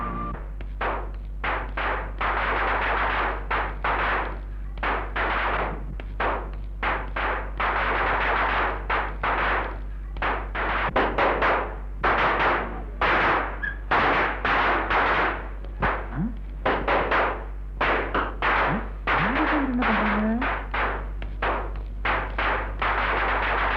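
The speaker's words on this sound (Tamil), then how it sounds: "ஊரெல்லாம் பட்டாசு வெடிச்சு வேடிக்கை பார்த்துட்டு இருக்கு" Rapid, dense bursts of firecrackers popping one after another across a whole town, sharp cracks in quick irregular succession, fairly loud and continuous.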